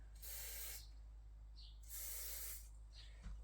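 Short bursts of an aerosol can spraying colour onto model railway hedges, two longer hissing sprays and a brief faint puff, quiet and close in an otherwise still room.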